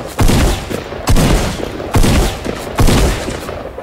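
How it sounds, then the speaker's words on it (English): Gunfire in Fortnite Battle Royale: four loud, evenly spaced bursts of shots, each sharp and booming with a short tail, close and alone without talk. "Someone shooting me?"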